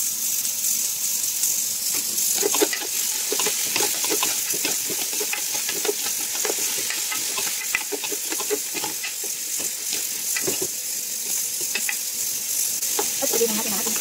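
Garlic, onion and tomato sauté in a pan for pork pochero, giving a steady close sizzle with frequent scraping stir strokes throughout.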